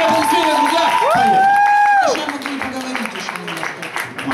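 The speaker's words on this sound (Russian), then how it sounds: "Давайте просто похлопаем." An audience in an art pub in Kyiv applauds and cheers a guest, while a voice talks over the opening seconds before the crowd's clapping carries on, with scattered sharp claps standing out.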